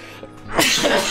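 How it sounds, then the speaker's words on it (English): A single loud, close human sneeze, a brief quiet intake followed by a sharp, breathy burst. "I'm gonna sneeze."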